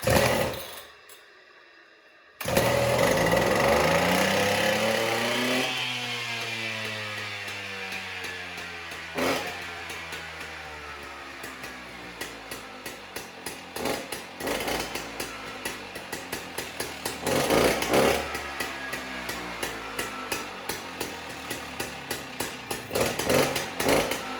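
A chainsaw with a freshly cleaned carburetor: after a brief silence the small two-stroke engine catches and runs roughly, then settles into a steady buzzing idle with rhythmic pulsing, loud and close.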